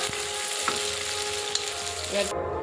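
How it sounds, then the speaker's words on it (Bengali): Small fatty river fish fry in a little oil, giving a close, dense hiss and crackle with faint pops for a few seconds until it cuts off abruptly. "মাছটা ভালো করে ভেজে নেব।"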